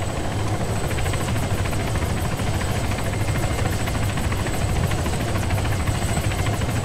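A helicopter in a video game flies with a steady, unbroken rotor and engine drone at constant loudness throughout, close and continuous with no voices over it.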